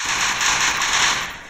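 Rapid gunfire in the mobile shooter Free Fire, a dense burst of shots merging into one continuous loud crackle that fades at the end, close and without speech.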